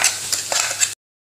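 Crushed masala hits sautéed onions in a pan for an egg biryani, giving a brief bright sizzle with a few stirring scrapes before cutting off to silence.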